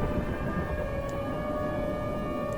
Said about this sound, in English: a hurricane will still activate the siren and the tornado sensor, because it's a type of severe destructive storm